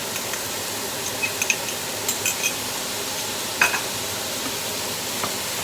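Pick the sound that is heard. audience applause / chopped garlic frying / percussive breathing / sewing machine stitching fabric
chopped garlic frying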